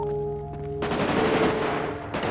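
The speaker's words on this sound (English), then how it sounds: "I hear gunfire." Gunfire in GTA 5 roleplay: after a faint tonal hum, a loud, rattling burst of shots runs for over a second, fades, then another volley breaks in at the end.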